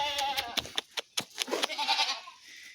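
Several goats on a small farm bleat in short, repeated calls, some close and loud, mixed with brief human voices and scuffling as the animals are led into their pen.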